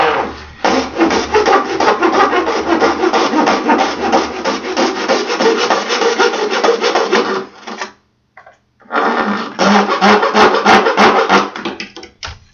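A plastic bin for a cat shelter is cut with a loud, rasping back-and-forth sawing that runs for about seven seconds, pauses briefly, then resumes close up.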